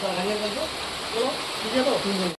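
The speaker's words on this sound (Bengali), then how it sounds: "তার মধ্যে এসে গেল বৃষ্টি" Steady rain falls outdoors during a village workout, a constant hiss of drops on surfaces running throughout while people talk over it.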